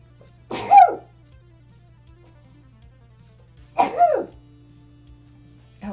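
Two separate sneezes by a person turned away from the microphone, each a sharp burst a few seconds apart against a quiet room with a low steady hum.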